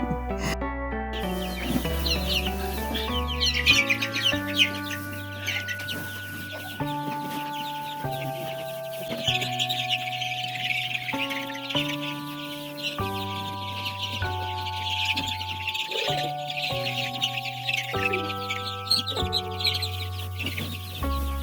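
Farm chickens from a flock of about fifty birds cluck and chatter continuously in the background, partly masked by steady melodic music playing over them.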